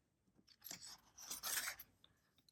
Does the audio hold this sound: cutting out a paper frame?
yes